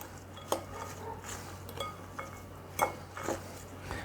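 A utensil stirs chicken salad with apple and chopped pecans in a bowl, giving faint scrapes and a few sharp clinks against the dish at irregular intervals over a quiet background hum.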